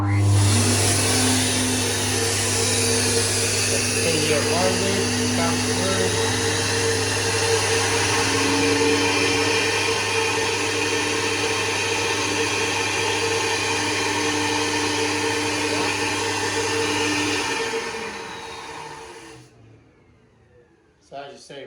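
Cylinder head flow bench for GM Motorsport CNC-ported heads running steadily at high lift, a loud continuous whooshing roar with a strong low hum, holding even for about seventeen seconds before spooling down and cutting off.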